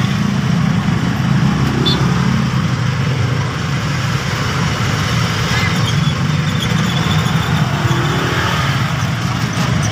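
Slow-moving traffic jam on Tullahan Road in Valenzuela: a steady, loud low rumble of idling car engines up close, continuous with no clear breaks.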